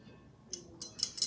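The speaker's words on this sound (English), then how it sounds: "Hear that? The firing pin is installed correctly." Several small sharp metallic clicks from Glock 17 3rd Gen pistol parts, including the firing pin and back plate, snapping into place during reassembly, close and quiet, about four quick ticks in a second.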